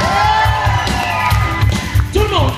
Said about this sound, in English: j'aimerais réellement que vous fassiez un tonnerre d'applaudissements en clappant des mains, en criant pour le King himself